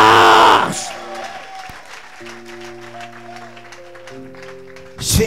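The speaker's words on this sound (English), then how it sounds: "You clap and shout." Congregation at a church service clapping and shouting, a loud burst of cheering and applause at the start that gives way to a sustained tonal sound, with the crowd swelling again briefly at the end.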